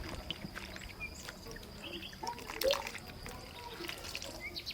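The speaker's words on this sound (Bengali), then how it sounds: "ফুলগুলো ভালো করে ধুয়ে নেব।" Pumpkin flowers being rinsed by hand in water, giving soft, faint splashing and trickling with a brief louder slosh midway, steady low background around it.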